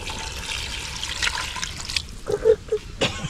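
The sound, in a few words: water being poured into a pot while cooking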